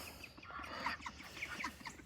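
Chickens cluck and chirp on a farm in Georgia, with scattered soft calls from several birds at a moderate distance over steady outdoor ambience.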